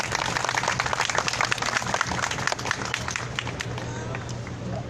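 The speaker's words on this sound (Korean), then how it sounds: "박수 부탁드립니다." A crowd at an outdoor weekly protest rally applauds, dense clapping filling the first few seconds and then thinning out, heard at a moderate distance.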